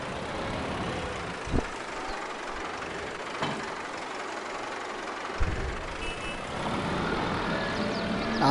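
Truck or tractor engine idling and backing up with intermittent reversing beeps and a couple of low thumps, while being maneuvered to hook up to a hay baler on a southeastern US farm, heard outdoors at moderate distance.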